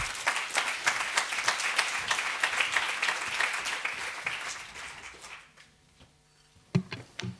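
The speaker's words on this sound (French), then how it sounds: "Merci beaucoup de les applaudir, c'est courageux." A conference audience applauds the speakers at a colloquium on children and domestic violence, brisk dense clapping that fades out after about five seconds, followed by quiet room noise and a few scattered knocks.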